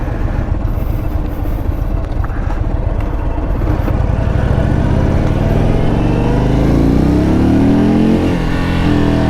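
A 2021 Indian Super Chief Limited motorcycle with the Thunderstroke 116 V-twin fires up, a loud, close rumbling idle that rises and settles, revving slightly toward the end, with no talk over it.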